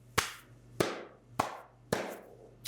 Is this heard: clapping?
yes